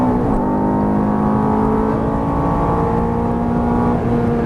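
A Ferrari F430 engine pulls at full throttle, a loud, steady, close mechanical roar with a strong tonal whine that holds throughout, no voices over it.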